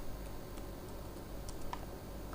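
Someone types on a computer keyboard while entering a search: sparse, faint key clicks spread unevenly over a low steady background hum.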